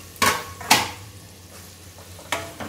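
Carrot and potato sizzle softly in a pan while a utensil scrapes and stirs in three sharp strokes, two close together and one later.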